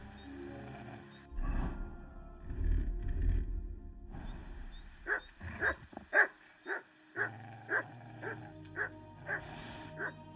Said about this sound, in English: I hear a lot of barking.